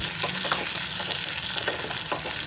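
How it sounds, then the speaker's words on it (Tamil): Spinach and greens frying in a pan for a Tamil lentil-and-greens kadayal, with a steady, dense sizzle, close and continuous throughout, and faint stirring ticks. "நல்லா பொரியட்டும் கீரை"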